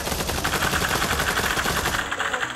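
Sustained automatic gunfire in a video game, a dense, fast, even rattle of shots that runs loud and close without a break and eases slightly at the end.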